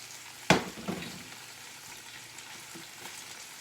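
Sausage frying in a pan gives a steady, close sizzle, broken by one sharp knock of a utensil or flip and a smaller follow-up clatter, then continuous soft crackling to the end.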